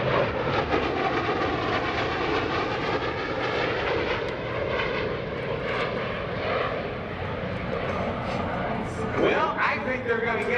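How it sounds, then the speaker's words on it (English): F/A-18F Super Hornet passes low over show center at idle throttle during a Naval Air Station Oceana airshow, giving a steady, broad jet rush under crowd and ambient noise rather than a roar. "they'll reduce throttles to idle, and it'll sound just like a whisper as they pass show center at over 500 miles per hour, upside down"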